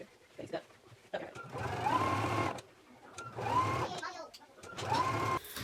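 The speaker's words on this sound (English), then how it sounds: "just be sure that you're not sewing any of your jacket" Sewing machine stitching a seam on a utility jacket, running in three steady bursts of motor whir with short pauses between them, close and fairly loud with no talk over it.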